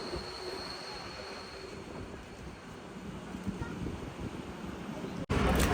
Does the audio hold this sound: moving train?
yes